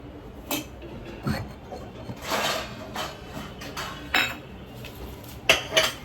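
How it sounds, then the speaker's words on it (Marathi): Plates being taken out in a home kitchen, a string of separate ceramic clinks and clatters with a few louder knocks near the end, set over quiet room background and with no speech. "मग मी प्लेट काढू."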